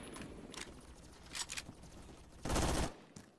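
Bursts of automatic gunfire in the first-person shooter game Phantom Forces, several short rapid volleys with the loudest, densest burst near the end, no talk over it.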